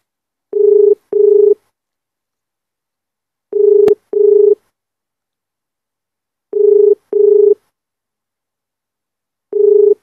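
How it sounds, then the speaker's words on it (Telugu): Telephone ringback tone while calling a police inspector's office, a steady tone sounding in paired bursts with pauses between them, repeating four times, loud and alone with no talk. "అక్కడ సిఐ గారికి ఫోన్ చేసి మాట్లాడే ప్రయత్నం చేద్దాం,"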